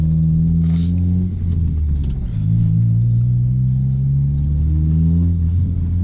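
A car engine drones at a low, steady pitch while descending in low gear, rumbling continuously with a slight dip and rise in tone, close and loud.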